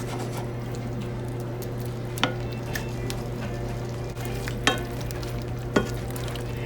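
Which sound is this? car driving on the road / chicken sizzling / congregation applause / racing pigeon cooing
chicken sizzling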